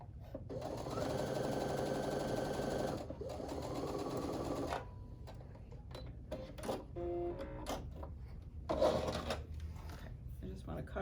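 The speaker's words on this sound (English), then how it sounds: "I'm going to sew." A sewing machine stitches pinned fabric in one steady, close mechanical whir lasting several seconds. It is followed by lighter clicks, shuffling and fabric handling while someone talks.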